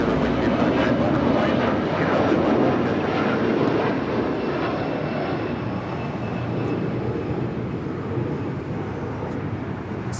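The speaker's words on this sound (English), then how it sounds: "It's flight 4050 departing to Oakland on a 30-year-old 737-400" A 30-year-old Boeing 737-400 roars steadily on takeoff from Los Angeles International Airport bound for Oakland, a broad loud engine rumble with whine that holds through the whole stretch and eases slightly toward the end.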